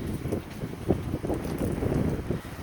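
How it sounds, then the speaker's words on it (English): Wind rumbles against the microphone in low, uneven gusts, steady and close throughout. "this is March and it's real windy"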